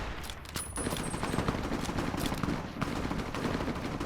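Sustained bursts of video-game gunfire in Fallout New Vegas, rapid shots rattling almost without pause, fairly loud throughout with a brief lull near the start.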